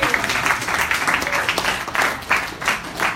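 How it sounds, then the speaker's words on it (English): A crowd applauds steadily, dense clapping that swells and fades slightly over a few seconds, with a voice faintly audible beneath. "Another big round of applause for Mark."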